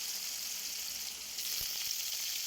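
Potato pieces fry in hot oil in a pan seasoned with black cumin seeds and dried chillies, giving a steady close sizzle with a few soft pops and stirring knocks partway through, with no talking.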